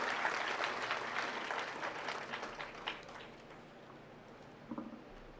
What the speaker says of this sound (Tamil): பறை அழிவிக்கிற மாதிரி கைத்தட்டல் ஒலிக்கணும்.